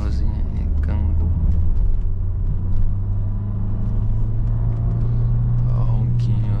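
A Nissan Townstar's 1.3 turbo engine drones low and steady as it accelerates along a winding road in Tuscany, a continuous close rumble that holds throughout, with a voice occasionally heard over it.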